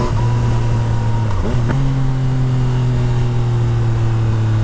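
A 2014 Yamaha MT-09 with a full Akrapovic exhaust runs loud and steady, its engine note dipping briefly before a blip and then holding a sustained, droning pull.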